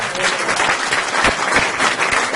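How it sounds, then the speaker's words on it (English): Loud, close crowd applause from a street gathering of about 130 people in London's West End, a thick burst of clapping that fills the whole short moment. "give yourself a round of applause"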